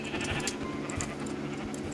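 Sheep bleating in the video game Minecraft, in a horror-style version, heard as a few short bleats over a dense, steady game soundscape at moderate loudness.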